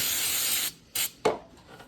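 Carb and brake cleaner sprayed onto a Hydro Gear transmission, one long close aerosol hiss followed by two short sharp spurts, with no talk.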